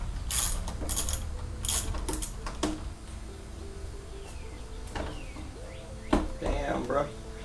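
Ratcheting wrench clicks while bolts are loosened on the clip-on handlebar mount of a Honda CBR 600RR motorcycle, short bursts of rapid clicks coming close and loud in a workshop with brief bits of talk.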